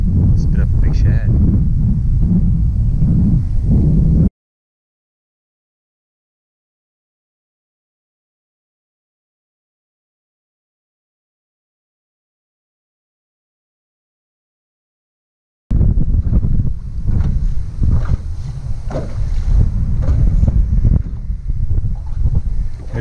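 Strong wind buffeting a fishing boat on a lake, loud rough gusty roar against the microphone, cut by a long stretch of total silence in the middle before the blustering resumes.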